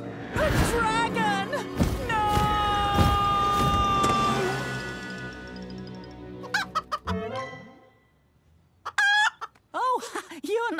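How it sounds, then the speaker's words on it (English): A cartoon chicken in Thomas & Friends clucks in quick, loud bursts after a long sustained tone. It pauses, then clucks again near the end, with animated-show sound effects around it. "A talking chicken."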